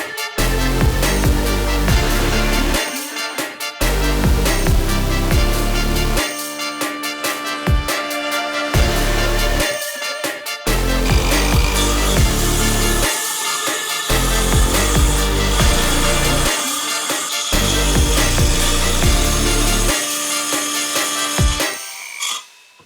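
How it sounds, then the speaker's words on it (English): A power saw cuts 1.5 to 2 inches off the back of a Milwaukee Packout mounting plate for a truck camper tabletop, with loud buzzing bursts that repeatedly start and stop close by. "Let's get the saw going."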